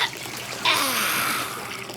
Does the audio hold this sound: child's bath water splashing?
yes